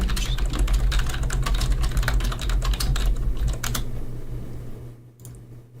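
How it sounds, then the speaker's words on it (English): Rapid clattering keystrokes on a computer keyboard as a chat message is typed, close and fairly loud, in dense bursts that stop near the end and leave quiet room tone. "I need to just type something in chat."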